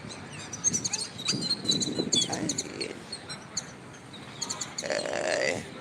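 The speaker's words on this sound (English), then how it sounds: "I'm just fascinated with these birds." Several birds call and chirp in bursts across the clip, with grunting, burp-like low calls mixed with higher tweets, fairly close and moderately loud over some background rustle.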